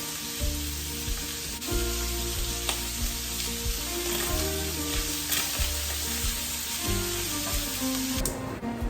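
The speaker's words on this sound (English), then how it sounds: "And I'm going to continue cooking the bacon over there." Bacon fries in a pan with a steady close sizzle, broken by occasional clatter of cookware being moved about.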